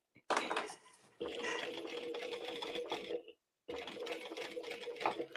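A sewing machine stitching a seam on an emo circle bag runs in close, loud bursts with a steady whirring hum and rapid needle clatter, stopping briefly before starting again.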